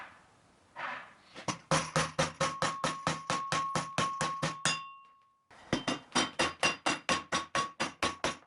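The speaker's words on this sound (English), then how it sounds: "a lot of hammering back and forth to get the sides to match the angle" Rapid, evenly spaced hammer blows ring out on metal with a bright clanging tone, a brief pause, then another steady run of strikes, bending sides to a hexagon angle.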